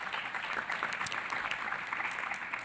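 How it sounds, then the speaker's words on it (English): Applause from an audience at a panel session, a dense, even patter of many hands clapping at moderate volume for a couple of seconds with no talk over it. "Please, a round of applause once again to our panelists."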